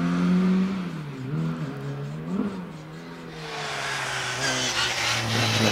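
A Mini races up the Prescott hillclimb course at a historic event, its mid-pitched engine revving hard and shifting through gears, fairly close and continuous with no voices over it.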